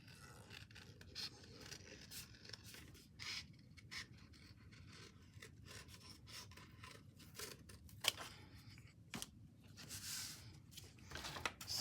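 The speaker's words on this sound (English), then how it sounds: "This is glued enough that I can cut it out now." Scissors cut out glued scrapbook paper in a series of crisp snips and scraping slides, with an irregular rhythm and one sharper snip near the middle, close and fairly quiet with no talking.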